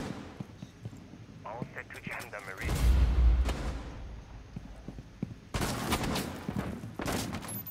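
Gunfire through a wall in Rainbow Six Siege, heard as scattered shots and heavy impacts, some muffled and some sharp, with a loud burst in the middle and more near the end, under intermittent talk.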